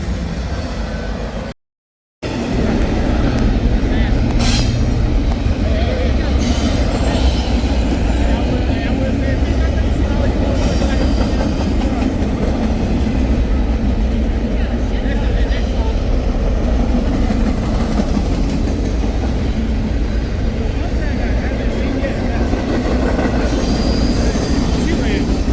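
A Florida East Coast Railway freight train rumbles past close by, its steady roar and wheel squeal filling the whole stretch, with a brief gap near the start and occasional voices under the noise.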